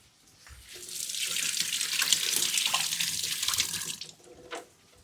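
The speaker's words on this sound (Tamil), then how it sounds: "கழுவ தான் போறேன்." Tap water runs steadily into a kitchen sink as vegetables are rinsed, a continuous close hiss and splash lasting several seconds before cutting off, with a brief clatter near the end.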